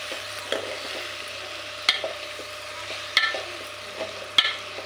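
Potato pieces and already-fried onions are stirred together in a hot pan. Utensil clinks and scrapes land roughly every second or so over a continuous moderate sizzle, with no talking.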